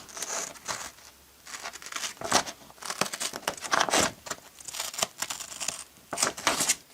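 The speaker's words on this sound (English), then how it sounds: "So we can now go ahead and cut this out, and then our guide will be ready." Scissors cut out a paper guide with a series of close, crisp snips and papery crinkles in irregular bursts, some louder than others, heard alone without talk.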